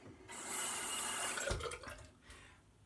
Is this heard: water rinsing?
yes